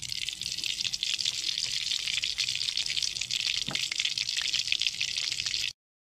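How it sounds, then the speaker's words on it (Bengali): Cooking oil poured into a pan, a steady close hissing pour that runs unbroken for several seconds, then cuts off sharply. "আমি এবার তেল দিয়ে দেবো।"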